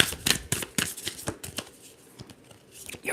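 Tarot cards being shuffled up close, a quick series of crisp riffling flicks and soft slaps in uneven bursts, with no talking.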